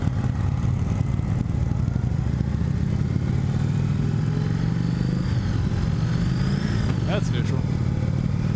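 A 2017 Indian Chief Vintage motorcycle is ridden with its engine droning low and a thin whine rising and falling above it, while the rider talks over the noise.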